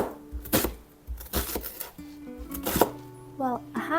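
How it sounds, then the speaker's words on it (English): A knife chops onion and soup ingredients on a cutting board, a handful of close, sharp thuds at an uneven rhythm, with a voice speaking between the cuts. "I'm going to chop the ingredients for my soup."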